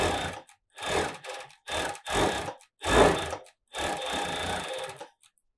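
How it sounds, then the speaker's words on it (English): Reliable 3100IC direct-drive cylinder bed coverstitch machine stitching medium weight fabric, running in five or six close bursts of steady mechanical whirring separated by brief pauses, loud and near with no talk. "Put it under the foot, start to sew."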